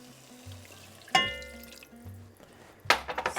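A cup of water pours into a pan with garlic in a short splashing stream, then stops; a second burst of pouring and splashing follows near the end, fairly close.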